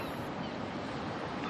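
Sea waves heard as a steady, even wash of surf noise, moderately quiet and continuous, with a faint wind-like hiss and no clear individual breakers.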